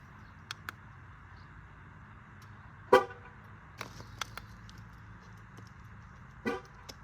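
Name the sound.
Chevrolet car horn sounding during tire pressure sensor relearn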